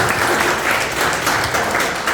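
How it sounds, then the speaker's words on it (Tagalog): An audience at a religious gathering bursts into loud, steady applause, dense continuous clapping that fills the space without any speech over it. "Isang malakas na palakpak sa pagpapalain."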